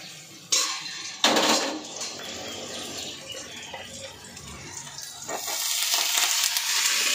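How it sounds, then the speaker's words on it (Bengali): Potatoes fry in a home kitchen pan with a soft steady sizzle, broken early by a couple of sharp clanks of utensils and cookware, close and moderately quiet, with no talking. "আলুটা তাহলে ভাজা বসিয়ে দিই।"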